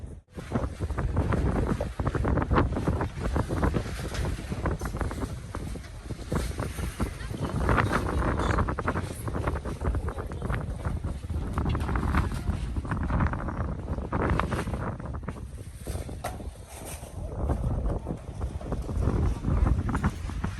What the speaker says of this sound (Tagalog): pasensya na mahangin